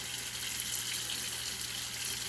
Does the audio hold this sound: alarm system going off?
no